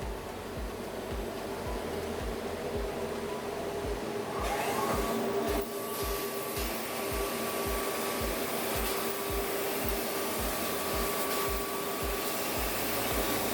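A laser cutting machine with head suction cutting adhesive tape gives a steady, loud mechanical drone with faint tonal whine and regular low pulses. It runs continuously throughout with no talk.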